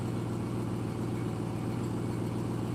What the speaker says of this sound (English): So it's pretty much this continuous exhaust noise all the time.